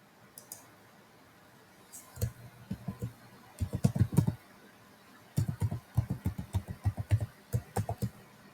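A password is typed on a computer keyboard in short bursts of close, crisp key clicks with pauses between runs, quiet and alone.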